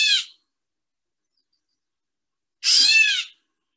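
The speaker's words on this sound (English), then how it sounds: "Now here is the signature cat sound." A gray catbird gives two of its cat-like meow calls, the first cut short at the start and the second fuller and clear, separated by a couple of seconds of silence.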